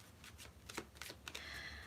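Tarot cards being shuffled in a run of soft riffling bursts and papery slaps over a steady low hum, fairly quiet and close, with no voices.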